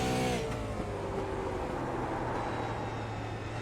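Super late model race cars at full throttle on a track, a steady loud engine roar with droning low harmonics and a brief burst at the start, continuous throughout.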